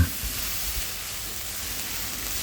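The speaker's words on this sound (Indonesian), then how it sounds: "Pastikan untuk menumis oncom pedas seperti ini teman-teman" Spicy oncom stir-fries in a pan over a home stove's highest flame, a steady, soft sizzle and hiss running evenly throughout with no voices.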